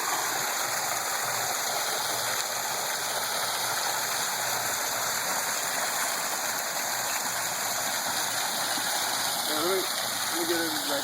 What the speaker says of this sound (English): This here is about a 7-foot high waterfall.